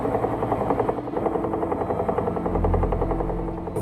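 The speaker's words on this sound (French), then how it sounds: "c'est un hélicoptère familial." A helicopter in Greenland, its rotor beating with a steady, rapid chop and a droning engine hum, loud and close throughout, with a deeper rumble swelling near the end.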